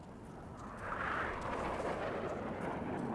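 Air strike explosion on a tank in the IGI 1 video game, a distant rumbling blast that swells and rolls on as a low, faint roar.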